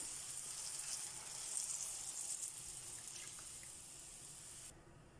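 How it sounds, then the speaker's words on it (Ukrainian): Water pours into a hot pan with a steady hissing sizzle that fades sharply near the end. "додаємо воду."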